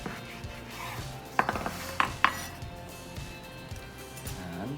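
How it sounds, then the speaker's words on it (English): A knife driven down through a layered club sandwich, a few close clinks and scrapes against a plate or board in a quick cluster, over a quiet room background. "You put your knife from one end to another and hold your sandwich and drive it down."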